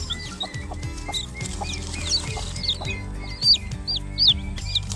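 Rhode Island Red chicks peep in quick, high, overlapping chirps close by, a busy brooder chorus over a low hum with soft scuffling.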